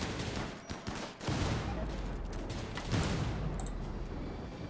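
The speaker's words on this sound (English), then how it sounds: "Yeah, gunshots, of course." Gunfire in the video game Rimworld: dense, overlapping volleys of shots crackle in a sustained fusillade, fairly quiet in the mix.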